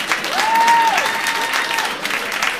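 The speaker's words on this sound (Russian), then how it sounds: "А теперь вы нам поаплодируйте с Новым годом." A concert audience applauds for New Year, producing dense, continuous clapping close by with a brief whistle-like tone riding over the crowd.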